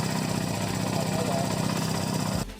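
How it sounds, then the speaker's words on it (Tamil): A motorcycle engine running at a steady, throbbing idle during a home oil service after the oil was drained, then cutting off abruptly near the end. "நம்ம பைக்கை ஸ்டார்ட் பண்ணி ஆக்சிலரேஷன் கொடுத்தோம்"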